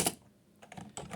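Keystrokes on a computer keyboard while a command is entered in a Linux terminal, a few quick close clicks in two short bursts with a pause between.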